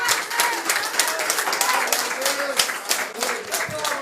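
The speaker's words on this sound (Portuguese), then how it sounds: "Pode aplaudir o Senhor Jesus nessa noite." Congregation in an Assembly of God church applauds with steady dense clapping, while voices and singing-like tones carry through underneath the applause.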